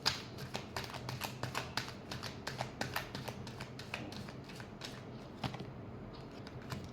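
Tarot-style cards riffled and tapped in quick succession during a horoscope reading, a close, light rhythm of crisp flicks that slows and fades toward the end, no voices.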